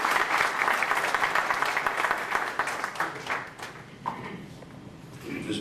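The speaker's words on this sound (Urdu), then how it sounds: "بھرپور تالیوں میں استقبال" Audience clapping at a poetry evening honouring the poet Qasmi: dense, sustained applause from a hall crowd that gradually thins and softens toward the end.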